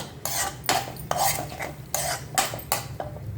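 Eggs being stirred and scrambled in a pan for egg bhurji while making egg rice, with repeated scraping strokes of a utensil against the pan in a steady rhythm, close and clear over a faint low hum.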